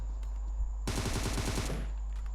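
Automatic gunfire from weapons being test-fired in the PUBG Mobile battle royale game, a rapid burst of shots lasting about a second, loud and close, then a fading tail.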